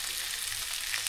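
Onions frying in a pan give a steady, close, even sizzle throughout, with no talking.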